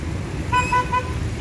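Car horns toot in short bursts over a low traffic rumble in a jammed street in Palembang, with three quick honks close together.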